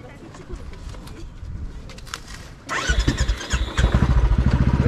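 A petrol motorcycle on a rough, dangerous road, its fuel switched to reserve. The engine revs up partway through and keeps a loud, pulsing throb to the end, with birds chirping faintly in the background.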